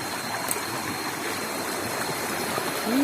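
A waterfall stream rushes among rock pools with a steady, close, full wash of flowing water that continues throughout.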